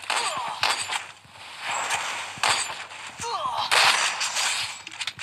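Gunfire in the mobile battle-royale game Free Fire during a duo-versus-squad match: sharp, separate shots crack out at irregular intervals over a busy game backdrop, fairly loud and close, with no talk.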